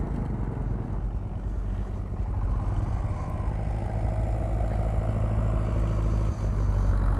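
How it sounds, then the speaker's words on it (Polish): A tractor climbs up from below on a Nepal mountain track, its engine a continuous low rumble that grows slightly louder as it approaches, with no voices over it. "traktor jedzie z dołu"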